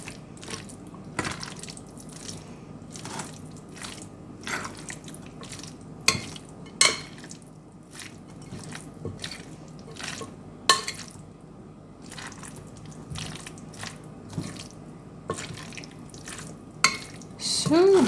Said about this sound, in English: And let's mix it all together.